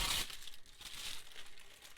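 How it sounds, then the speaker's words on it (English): Tissue paper is crumpled and crinkled by hand for texture in a paper craft journal, with close, continuous rustling and crackling that is loudest at the start. "I'm going to take tissue paper,"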